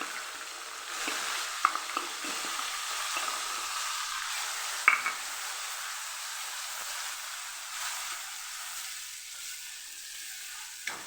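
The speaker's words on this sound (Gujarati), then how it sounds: "ડુંગળી અને ટમેટાની જે પેસ્ટ તૈયાર રાખેલી એ આપણે અહીંયા ઉમેરી દઈશું એને પણ સરસ સાતળી લઈશું" Onion-tomato paste sautés in a pan with a continuous close sizzle, while a spoon scrapes and stirs through it and gives a few sharp knocks against the metal.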